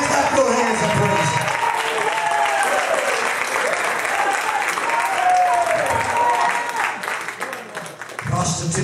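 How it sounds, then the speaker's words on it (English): A Pentecostal church congregation claps hands in praise, loud continuous clapping with voices and shouts mixed in throughout, briefly dipping before surging again. "Somebody come on and clap your hands and praise."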